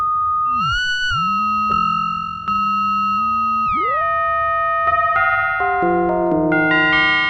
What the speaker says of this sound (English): we can kind of start to get some of those more typical FM sounds